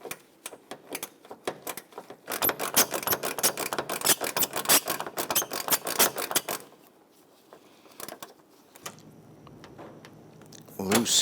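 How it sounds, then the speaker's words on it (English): A gear ratchet wrench loosens a 10mm bolt on the fender of a 2008-2013 Infiniti G37, giving fast close clicking runs that stop and start with short pauses, and a voice is heard briefly. "Now you can use a gear wrench or you can use a 10mm socket and come around the outside here."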